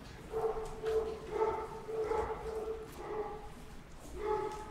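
Dogs barking and whimpering during rain and thunder, a series of five or so tonal yelps and whines spaced about a second apart, mid-distance, over a dull wash of background noise.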